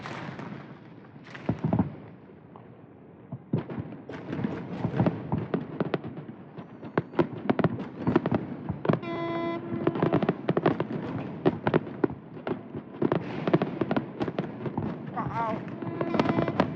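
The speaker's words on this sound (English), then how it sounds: "That's one of the biggest New Year's fireworks I have seen." New Year's fireworks burst over a Sardinian harbour, a dense, continuous barrage of loud cracks, booms and crackling with no break, mixed with a whistling rocket and distant crowd noise.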